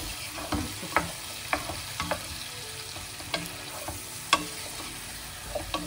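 Spices being stirred in a pot for rice kabsa, with irregular scraping and clinking strokes over a steady, soft sizzle, close by and with no talk.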